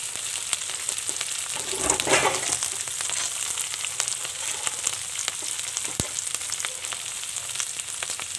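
Peanuts and garlic frying in a pan for veg fried rice, a steady oil sizzle with a brief surge of louder crackling, plus occasional stirring clicks, heard alone.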